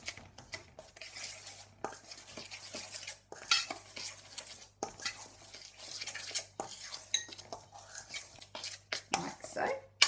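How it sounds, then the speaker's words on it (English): A palette knife stirs dry dairy-free pastry ingredients in a bowl, with light scraping and clinking against the sides in short irregular bursts, close by and fairly quiet, broken by pauses. "I'm going to take my palette knife and just give those a quick mix around"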